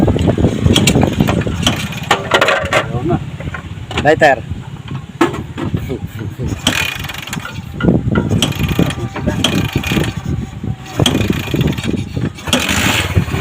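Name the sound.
Bajaj CT100 motorcycle engine starting and idling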